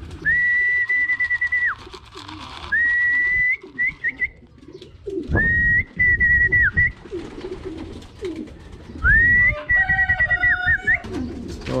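Pigeons in a loft, including red bar and fancy Budapest birds, give repeated soft cooing calls in bursts separated by short pauses, close and clear with no talk.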